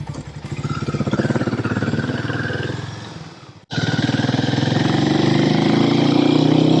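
A Harley-Davidson X440 motorcycle engine runs close by with a loud, steady thumping beat that cuts out sharply for a moment, then resumes and builds in pitch as the throttle opens.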